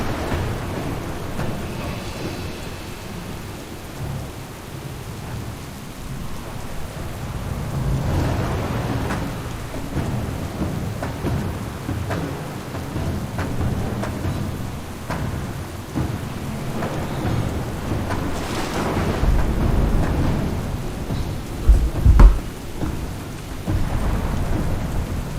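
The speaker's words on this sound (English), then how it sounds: "Warlord, this storm will soon overwhelm us." A thunderstorm in World of Warcraft: steady heavy rain with rolling thunder rumbling throughout, and a sharper crack near the end, with no voices.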